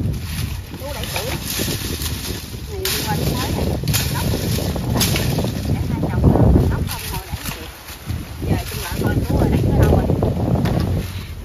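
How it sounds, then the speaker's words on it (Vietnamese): Strong wind buffets a microphone outdoors in hot weather, a steady loud rushing roar with gusts rising and falling throughout. "Gió rồi đó, gió rồi đó anh."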